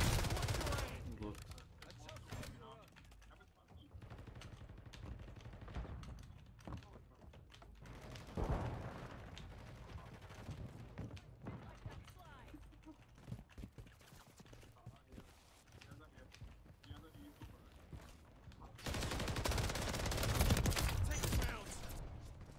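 Gunfire in a video game, scattered sharp bursts and rattling volleys at moderate distance, strongest near the end, under ongoing game noise and occasional voices.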